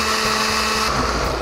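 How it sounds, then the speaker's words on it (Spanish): A kitchen blender whirs steadily, loud and close, as it purées onion, garlic, rehydrated chiles and salt, with the motor pitch shifting slightly partway through and no talking. "Tapamos y licuamos esa madre."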